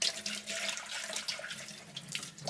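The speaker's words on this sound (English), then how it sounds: "Rinse this hopper too." Tap water runs and splashes close by as a Kuvings Auto10 Plus slow juicer hopper is rinsed under the faucet, a steady splattering flow with shifting gurgles.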